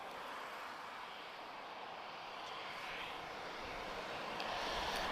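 A Transavia Boeing 737 NG airliner at Lisbon airport makes a faint, distant jet rumble and hiss that slowly grows louder toward the end, with no voices.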